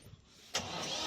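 A tractor engine turns over after a quiet moment, catching with a sudden burst and settling into a steady, mid-pitched running drone nearby.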